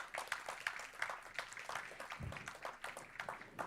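Group applause at a school board meeting honoring a student: steady, dense clapping from an audience, moderately quiet and somewhat distant, lasting a few seconds.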